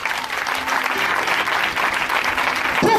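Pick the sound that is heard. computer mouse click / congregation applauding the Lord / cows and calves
congregation applauding the Lord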